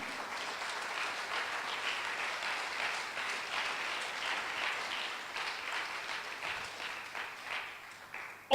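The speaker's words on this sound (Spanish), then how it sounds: "denle un aplauso al Señor." A church congregation applauds for several seconds, a steady dense wash of many hands clapping at moderate volume, continuing without pause from start to finish.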